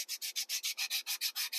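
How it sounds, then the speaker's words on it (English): A sanding block rubbed back and forth along a wooden edge in eleven even, rhythmic strokes, close and crisp with no talking. "rolling the sanding block over the edge"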